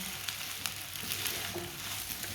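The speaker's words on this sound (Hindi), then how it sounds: "इसके लिए हमने 2-3 मिनट के लिए इसे भून लेना है" Carrot and cabbage sauté in a pan with spices, a steady close sizzle broken by light spoon stirring, no talking.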